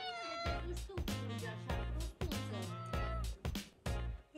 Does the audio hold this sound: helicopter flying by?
no